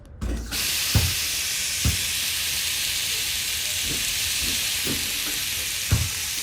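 A garden hose spray nozzle set to its soaker mode gives a steady, loud rushing hiss of water that runs unbroken through the clip, with a few soft low thumps underneath.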